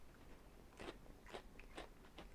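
Several crisp crunches from biting and chewing a fried corn dog, close and quiet, spaced a fraction of a second apart with no talking.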